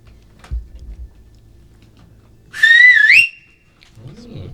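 A single rising, warbling whistle call in a video game rings out loudly for about half a second, preceded by soft clicks and low rumbles, then a brief low tonal flourish.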